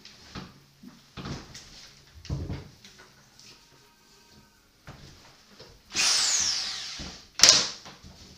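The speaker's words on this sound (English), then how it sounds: "now I'm just going to drill the pilot holes, 3mm drill in the main bulkhead" Drilling 3mm pilot holes in the main bulkhead panels of a home-built dinghy: short bursts of handling knocks and clatter, then two loud, high drill whines, the second brief and sharp.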